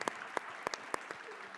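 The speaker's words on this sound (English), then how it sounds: "Give him a round of applause." A handful of sparse, scattered hand claps, quiet and uneven, with faint room noise between them.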